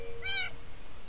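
A single short cat meow in the Hypixel Party Games video game, a clear tonal mew that rises and falls over a faint background hum.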